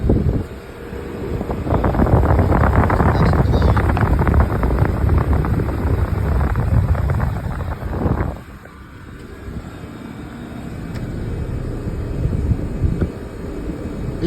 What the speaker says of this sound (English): Here is my Trane XL99 heat pump running in heat mode.